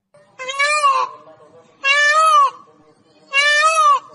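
A peacock sounds three loud, drawn-out, wailing calls with a nasal, meow-like rise and fall, each lasting under a second and separated by short pauses, with nothing else heard.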